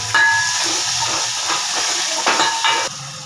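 Bajji pieces deep-frying in hot oil, a steady loud hiss and sizzle with crackling bursts throughout, no voices over it.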